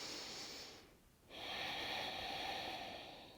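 A steady, close breath during a yoga twist, a soft airy rush with a brief pause in the middle before the flow resumes.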